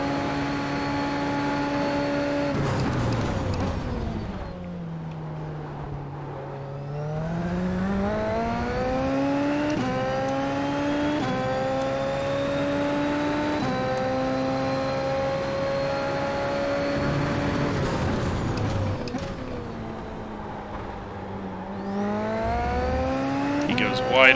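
Super Formula open-wheel race car engine in the iRacing game at the Red Bull Ring, loud and continuous, its pitch sweeping down under braking and climbing again through the gears as the car exits corners.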